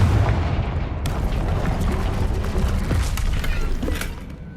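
Loud spell blast of Confringo in the Hogwarts Legacy video game: a sudden booming explosion with a crackling, shattering burst that stays dense and sustained over game audio, then fades toward the end.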